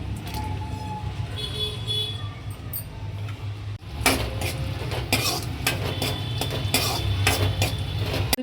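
A spoon stirs chopped cashews, almonds and raisins frying in ghee in a pan for rava urundai, giving close metallic scrapes and clinks over a steady low background hum.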